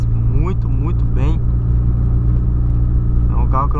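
A tuned VW Polo's engine idles and revs with a loud, steady low rumble, while someone talks over it in several short bursts.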